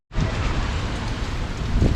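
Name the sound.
wind and rain from Hurricane Ian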